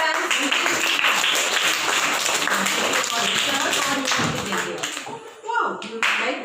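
Children in a classroom clapping their hands, a loud, dense burst of clapping with voices mixed in, fading after a few seconds as talk takes over.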